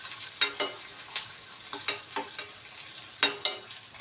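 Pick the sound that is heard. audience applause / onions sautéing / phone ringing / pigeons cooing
onions sautéing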